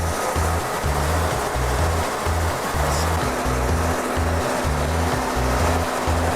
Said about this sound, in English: the particle counter will be flushing the fluid until the moisture sensor has been calibrated and it's ready to take the test